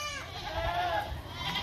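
Goats bleating at a Thursday livestock bazaar where milking goats are sold with their kids, with rain falling; a steady, close bleat sits over continuous market noise throughout.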